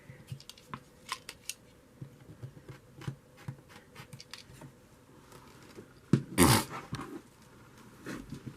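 A worn rotary cutter slicing through fabric for a jacket, giving soft scattered cutting strokes and light scraping, with one louder, denser burst of cutting near the end, close and without speech.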